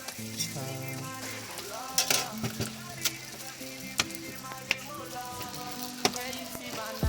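Roti frying in bubbling hot oil at a street stall, a steady dense sizzle with clicks and taps of utensils throughout, while voices and tonal background sound run underneath.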